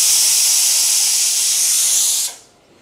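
Loud, continuous hiss of steam escaping from a pressure cooker whistle while cooking chickpeas, holding steady for a couple of seconds before cutting off abruptly into quiet.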